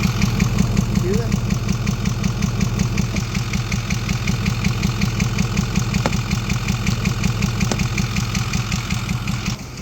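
A 6.4 Powerstroke diesel engine idles loud and close with a fast, steady chugging pulse, carrying a repeated popping from the intake and a few sharp clicks.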